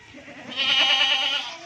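A Rajanpuri goat on a goat farm gives a single loud, close bleat lasting about a second, rising and then tapering off.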